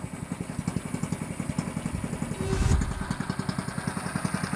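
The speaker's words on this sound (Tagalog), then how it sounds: "Kaya nagpainit lang ako ng makina ng bangka" A fishing boat's engine idles to warm up, a steady close chugging with a regular fast pulse and a short louder swell midway through.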